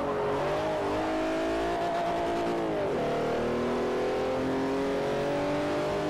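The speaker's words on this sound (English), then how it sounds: "That engine is lovely." A race car engine in Forza Motorsport 4 drones steadily at high revs for the whole stretch, its pitch dipping briefly midway before climbing again, with faint tire noise and no talking.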